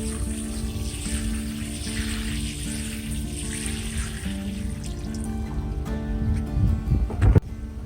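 Water pours steadily onto bonsai soil medium, settling it around the roots, a continuous hissing trickle with faint sizzling texture and a few louder splashes and knocks near the end over background music.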